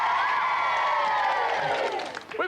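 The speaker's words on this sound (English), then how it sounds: "Give a big round of applause." A studio audience at a 1992 TV game show claps and cheers loudly, with whoops and whistles rising over the dense clapping before it trails off.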